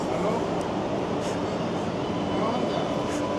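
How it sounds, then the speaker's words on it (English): Two light rail trains, a Type 8 and a Type 7, pass on a street in Allston Brighton, giving a steady, loud rumble that carries through the whole stretch alongside outdoor noise and some voices. "So there goes 2 trains."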